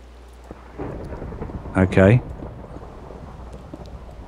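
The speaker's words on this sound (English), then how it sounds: "Let's get rid of the rain" Rain and thunder in a Minecraft world, a steady wash of rainfall with a low rumble swelling midway, while a voice speaks briefly over it.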